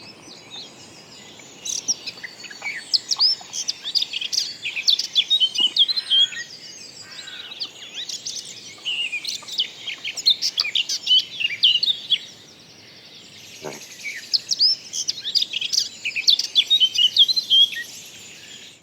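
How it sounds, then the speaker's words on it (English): A blackcap sings a complex, varied warbling song in bright rapid phrases, repeated across the recording with short pauses, clear and alone with faint insect-like background. "Let's have the blackcap."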